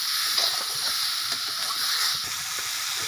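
Hilsa fish curry with eggplant and potato, salted and stirred in the pan, gives a bright continuous sizzle and hiss with soft, irregular scraping of the stirring spoon close by.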